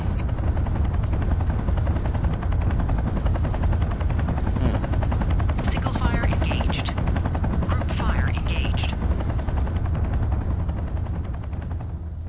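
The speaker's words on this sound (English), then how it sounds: "I'm going to see if I can't get one of those freaking helicopters shot out of the sky." Helicopters in the video game Mechwarrior 3 chop steadily with a constant loud rotor throb, while scattered bursts of gunfire and weapon effects break in over it; a voice talks intermittently across the scene.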